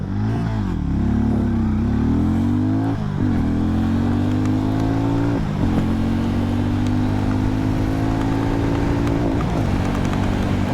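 A Harley-Davidson X440 or Hero Mavrick 440 motorcycle engine revs hard and climbs in pitch through several gear changes during an acceleration test, each shift dropping the tone before it rises again, loud and close.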